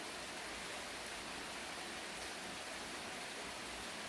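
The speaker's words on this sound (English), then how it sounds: "Really enjoying the rain." Rain falls as a steady, faint, even hiss with no breaks, filling the background alone.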